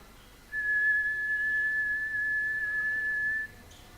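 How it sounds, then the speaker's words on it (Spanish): A person whistles one steady, sustained clear tone into a microphone, held for about three seconds before stopping, alone in a quiet room. "fíjense, cuando yo silbo"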